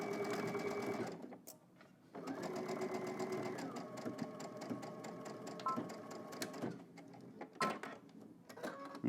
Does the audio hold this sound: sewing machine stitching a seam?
yes